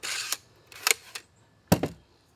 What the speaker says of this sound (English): Let's just throw a few nails in and we'll show you the recoil.